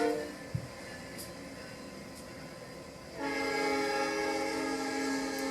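A train passing in the distance with its horn sounding, a faint rumble joined partway through by a sustained, layered horn chord that keeps sounding to the end; no talking.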